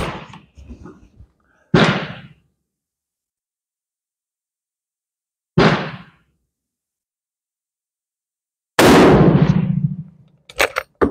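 A Steyr M95 rifle chambered in 8x50R Mannlicher fires three sharp, loud shots spaced several seconds apart outdoors, each with a short decaying crack, followed by a brief clatter.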